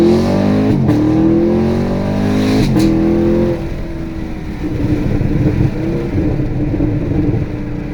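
An automatic 2016-2019 Chevrolet Camaro SS holds steady revs on launch control, with a loud, close V8 drone and quick throttle blips, then releases into a roaring launch and upshift.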